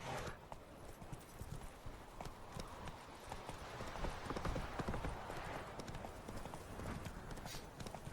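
Roach the horse in The Witcher 3 gallops with rapid, steady clip-clop hoofbeats throughout at moderate loudness, and a voice speaks faintly in the background.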